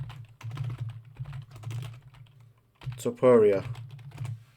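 Computer keyboard keys are typed in short clicky bursts while a search is entered, with someone talking over most of the tapping.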